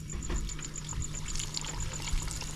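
Liquid trickles and splashes steadily off fish bait on a beach while shore fishing, a continuous close dribble over outdoor ambience.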